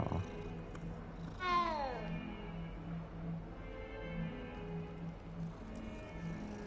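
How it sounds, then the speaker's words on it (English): A cat in the video game Hogwarts Legacy gives one clear, rising-then-falling meow while being petted, followed by a soft, low, steady murmur with nothing else prominent. "all you can do is just pet the cat"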